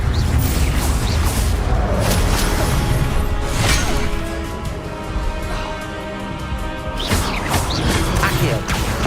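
Spell blasts from the Confringo blasting curse in the Hogwarts Legacy video game, loud booming crashes and whooshes recurring over a dense, busy combat mix, with voices in the background.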